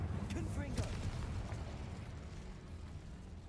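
A Confringo blasting spell goes off in the video game Hogwarts Legacy as a sharp crackling burst over a deep rumble, which then fades into a sustained low roar for a few seconds.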